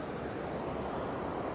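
Ocean waves breaking over a sandbar at Upgang Beach during a sea fishing match, a continuous dense wash of surf with wind, steady and fairly loud with no voices.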